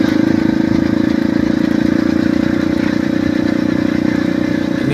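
Motorcycle engine running continuously while riding on a rough rural route, its chain loose and close to slipping off; a loud, steady, close drone with a fast even pulse and no voices.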